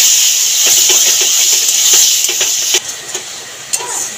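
Sour yogurt being stir-cooked into a spice masala for a Bengali jackfruit dish, producing a loud, hissing sizzle close up, broken by repeated spoon taps and scrapes against the pot.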